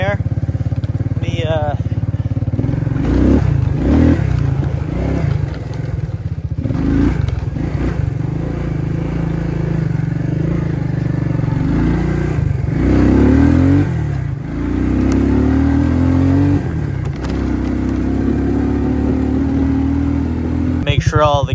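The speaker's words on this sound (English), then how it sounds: "Put it in first gear. See, it's taking off pretty good." Suzuki KingQuad ATV engine pulling away in first gear, a loud, rough, close-up drone rising and falling through the run, with someone talking over it.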